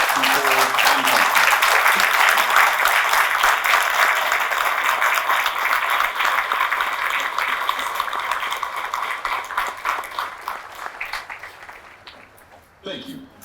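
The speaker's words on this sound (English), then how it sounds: "Ladies and gentlemen, a round of applause for their dedicated service to Torres and country." A large audience at a Marine recruit graduation at MCRD San Diego applauds loudly and steadily, the dense clapping slowly thinning and fading toward the end before a brief voice cuts in.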